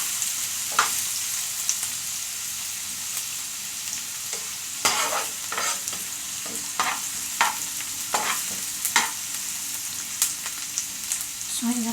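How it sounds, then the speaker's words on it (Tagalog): Onion and garlic sauté in a pan with a constant close sizzle, broken by intermittent scraping stirs of a spatula against the pan, moderately loud and without talk. "Lagyan lang natin ng mga 1 minute para maluto po yung ating sibuyas at bawang."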